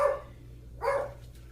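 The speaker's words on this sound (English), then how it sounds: "That's my little Shih Tzu Tuck barking in the background." A small Shih Tzu barks twice, short sharp yaps separated by a pause, fairly close but not loud, over a low steady background hum.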